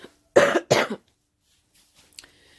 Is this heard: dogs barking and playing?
no